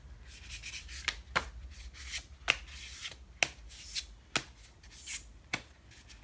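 Tarot cards shuffled by hand in a quiet room, a soft continuous rubbing of card stock punctuated by about eight sharp taps as the deck is squared, with no talking.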